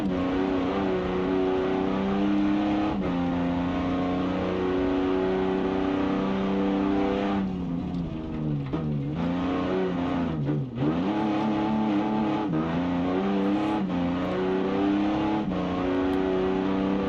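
A car engine in the BeamNG game revving on the Pikes Peak climb, heard from inside with sound dampening, a steady loud drone that climbs and drops with gear changes and lifts around corners, no talking.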